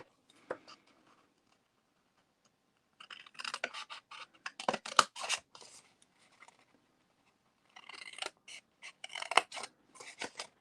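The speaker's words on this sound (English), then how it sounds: "we're going to cut the same direction" Scissors snipping through the sides of a cardboard treat box, short bursts of crisp cuts separated by quiet pauses, close and clear with no talk.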